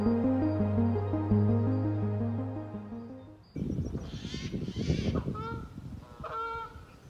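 Geese honking outdoors on a calm, quiet, overcast early-spring day in the countryside, a cluster of loud, overlapping calls in the second half after a different steady tonal sound fades out.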